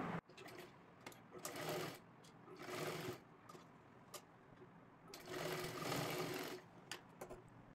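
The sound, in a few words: sewing machine stitching lehenga latkan fabric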